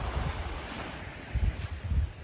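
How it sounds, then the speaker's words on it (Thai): Low rumbling surf washes in over steady background noise, with swells rising around the middle and end, like waves breaking on a beach nearby, at the seaside in Hua Hin, Thailand. "กลัวเสียงคลื่น"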